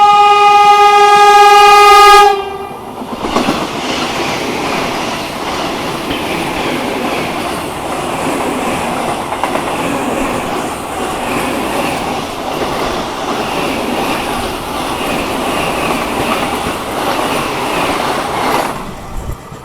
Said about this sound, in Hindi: तो कुछ ही देर में सामने से आने वाली है वंदे भारत एक्सप्रेस।